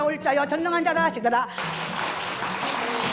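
An audience at a Saturday evening church service for an elderly congregation breaks into applause. A woman reads scripture aloud first, then steady, close clapping from a group fills the rest.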